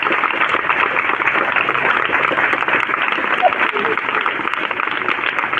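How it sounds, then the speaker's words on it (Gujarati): Schoolchildren and staff give sustained applause at a teacher's farewell ceremony at a primary school, a dense, steady wash of many hands clapping without a break from start to finish. "તાળીઓનો ગણગણાટ થવો જોઈએ"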